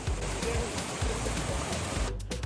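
Pinsal Falls in Abra, Philippines pours in a steady, loud, broadband roar of rushing water close by, continuous throughout with no talking.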